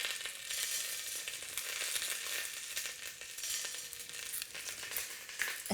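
Whole spices such as black peppercorns sizzle and crackle steadily in hot oil for chicken biryani, a soft continuous hiss with small pops, quiet and close, with no talking.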